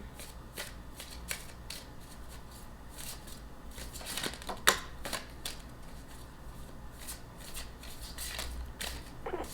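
Tarot cards shuffled by hand during a reading, a soft continuous riffling and sliding with a few sharper flicks and snaps partway through, quiet and close with no talking.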